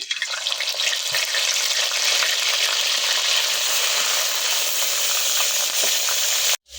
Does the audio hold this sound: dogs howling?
no